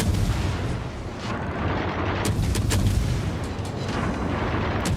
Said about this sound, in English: Don't these guns sound great?